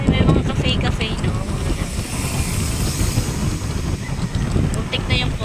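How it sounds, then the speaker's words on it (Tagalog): Strong wind buffets a microphone outdoors on a cold day in the Tanay highlands, a loud continuous rumble with gusty swells that runs through the whole stretch. "Mahangin kasi, ang lamig-lamig."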